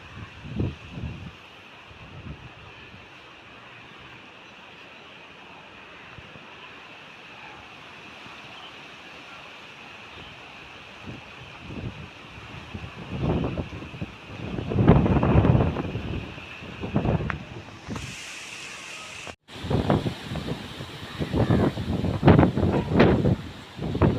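Strong wind blows through mango trees during a summer rain, a steady broadband rush that builds into loud, surging gusts in the second half, with no voices.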